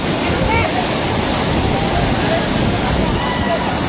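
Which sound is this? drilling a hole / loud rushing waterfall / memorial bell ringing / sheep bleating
loud rushing waterfall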